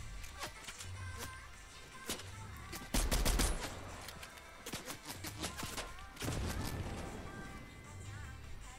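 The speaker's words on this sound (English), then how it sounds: "someone's shooting at me" Bursts of Fortnite gunfire crack in rapid volleys, with machine-gun strings and single shots scattered across the stretch, loud and close, alongside thuds and footsteps.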